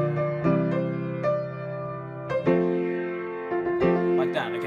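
Piano chords from a song play in a slow, uneven pattern, the left-hand lower notes landing slightly off the beat from the rest.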